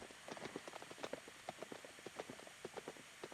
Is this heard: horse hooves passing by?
yes